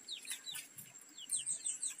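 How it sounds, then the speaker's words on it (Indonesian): A pet cuit bird, also called kolibri, gives a run of quick, high, thin chirps in short bursts, fairly faint and close, with soft low rustling underneath. "ini ada yang pertama nih, burung cuit atau kolibri"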